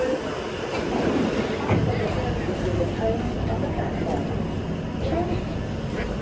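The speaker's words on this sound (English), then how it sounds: "That joint be coming in fast. Like, the train don't even slow down." A London Underground train running fast into a station makes a continuous, loud, rushing rumble that stays steady throughout.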